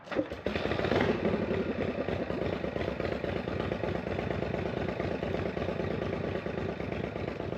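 A David Mann chopper motorcycle engine cranks and catches, then settles into a steady loud clattering idle close by, running alone without talk.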